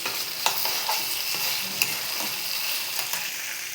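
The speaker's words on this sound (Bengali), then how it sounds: "মাংস আলু ভাজা" Meat and potatoes fry in a pan, a steady moderate sizzle broken by a few sharp clicks and scrapes of a stirring utensil.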